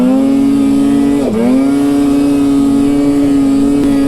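A Ski-Doo or Polaris snowmobile engine holding a steady, loud idle with a brief dip and recovery in revs partway through, close by with no voices.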